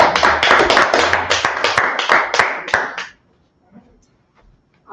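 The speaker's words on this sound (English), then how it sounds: "Clap it up for the class." An audience claps for a class in a burst of quick, overlapping handclaps that lasts about three seconds and then stops abruptly, leaving near silence.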